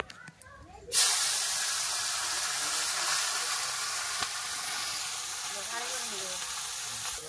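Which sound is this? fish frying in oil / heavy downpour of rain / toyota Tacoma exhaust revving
fish frying in oil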